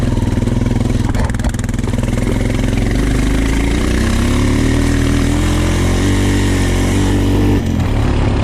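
A Honda TRX450 ATV engine runs and revs in snow, a loud, continuous mid-pitched motor drone that rises and falls with the throttle across the whole stretch, with no talk over it.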